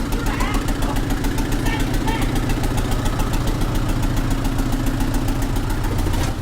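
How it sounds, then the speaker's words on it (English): A tractor engine runs nearby with a steady, rapid knocking idle rhythm that stays loud and even throughout, with faint voices in the background. "We have people driving a tractor."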